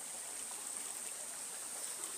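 River water flows steadily at a sand harvesting spot, a continuous even rushing hiss with no talking heard.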